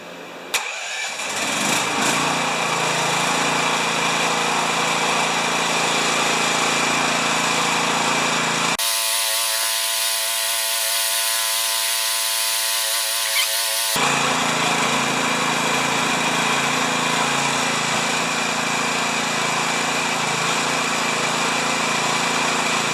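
A 420 cc clone engine fires up after a brief start and runs at a steady high idle, a loud, close, continuous buzzing roar with a sharp change in tone midway before settling back to its original sound.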